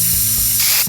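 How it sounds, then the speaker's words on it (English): A spray can hissing: a loud, continuous close-up hiss that lasts the whole short moment and brightens toward the end, with no voices. "we'll be turning our spray cans on"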